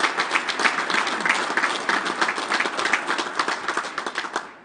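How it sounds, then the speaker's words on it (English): A crowd at a senior finals gathering claps steadily for several seconds. The dense, even applause tapers off at the end. "Give him a big round of applause."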